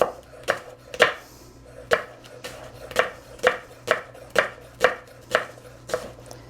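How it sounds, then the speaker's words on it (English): A knife chops leeks on a cutting board for leek tarts in a steady rhythm of about a dozen crisp, close thuds, with no talking. "I'm running my knife through kind of like, I'm not just chop, chop, chop."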